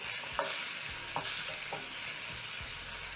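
Spices (paprika, cayenne and cumin) are stirred into tomatoes sizzling in a pan for shakshuka, with a steady frying hiss and a few soft scrapes of the spoon against the pan.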